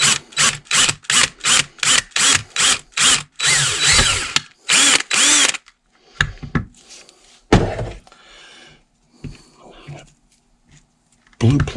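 A power drill whirs in rapid bursts while boring through a blue plastic horn clamshell, followed by clunks and handling noises as the pieces are fitted together.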